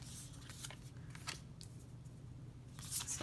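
Tarot cards being flipped and handled on a table during a card reading, giving quiet papery flicks and soft slides spread across a hushed, close background.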